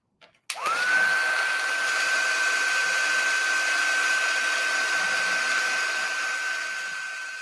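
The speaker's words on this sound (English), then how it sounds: "Now I'll quickly heat set with my heat tool." A craft heat tool blows hot air to set white embossing powder, switching on with a click and then running as a steady, loud whirring drone with a high whine that fades slightly at the end.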